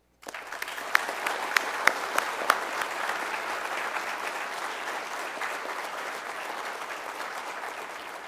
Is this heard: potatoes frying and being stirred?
no